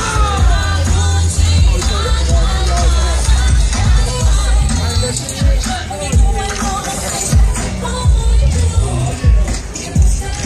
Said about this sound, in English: them Hornets way over there making some noise.